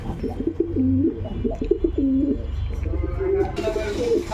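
Prince pigeons coo in a steady run of soft, rolling calls, close and clear, with several birds overlapping throughout.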